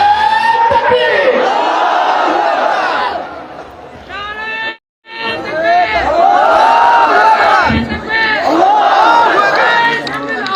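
A large crowd at a Bangladeshi election rally roars the Takbir chant back in unison, loud rolling shouts in waves with a brief silent break between them.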